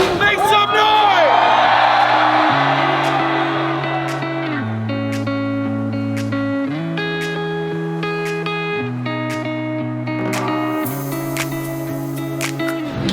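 A large crowd of thousands of fans cheers and whoops at a drift party at Raceway Park. The noise is loudest at the start and settles under steady droning tones.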